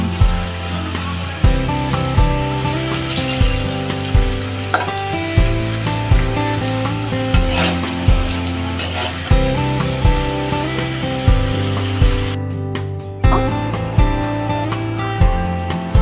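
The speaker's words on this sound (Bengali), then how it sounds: "রসুনটা ভেজে নিচ্ছি কারণ যাতে রসুনটা খাওয়ার সময় পুরোপুরি নরম হয়ে যায়।" Garlic fries in a pan, producing a loud, constant hissing sizzle with a recurring rhythmic pulse underneath, repeating roughly every couple of seconds, and no voices.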